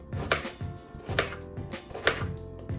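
A knife chops through an onion on a cutting board while potato fries are being topped, with four distinct, fairly loud strokes at a slow, even pace, each a crisp thud with a bright crunch.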